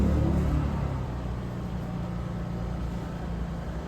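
A wheel balancer spins a tire in a shop, opening with a low rumble that settles into a steady, moderate whirring hum throughout.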